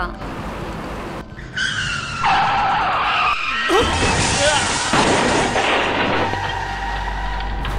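A truck skids hard on a road with a long, shrill tyre squeal, then comes a loud, crunching crash impact that leaves heavy rumbling noise behind it, with indistinct voices underneath.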